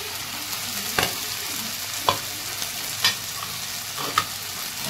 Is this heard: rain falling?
no